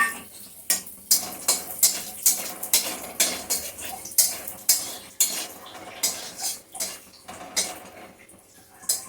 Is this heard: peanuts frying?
yes